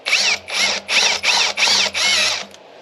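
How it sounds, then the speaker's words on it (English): Power drill boring through an aluminum plate on a Club Car golf cart, six loud whining bursts in quick succession with short pauses between, close and alone. "Need to drill this out to fit over the"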